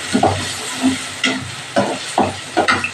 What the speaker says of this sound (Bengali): এইবার একটু ভালো করে কষিয়ে নেব